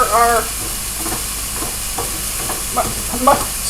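Mushrooms frying for a veggie rice chow, stirred in the pan with a steady sizzle broken by several scraping, clattering utensil strokes, close and fairly loud.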